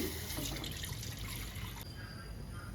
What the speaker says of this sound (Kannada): ಒಂದು ಪಾತ್ರೆ ಇಟ್ಬಿಟ್ಟು ಅದಕ್ಕೆ ನೀರು ಹಾಕಿ